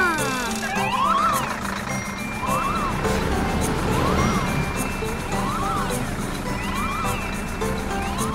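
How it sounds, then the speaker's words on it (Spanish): Wailing cartoon siren from a children's animated show about a tow truck and vehicles near cliffs, repeating rising and falling sweeps over a busy music bed with some voices. "Tu sirena les dirá a los otros autos que se muevan a un lado debido a una emergencia."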